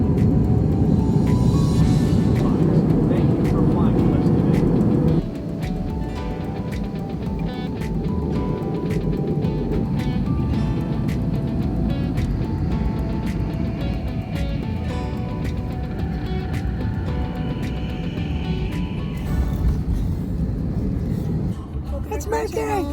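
Steady, loud low rumble of an airliner cabin filling the whole stretch, with a brief drop in level partway through.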